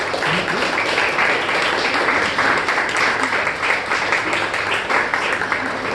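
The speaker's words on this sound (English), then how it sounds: "We like applause, guys." An audience claps at a Toastmasters meeting as role takers come on stage, a steady, dense wash of applause that holds evenly throughout, close and fairly loud.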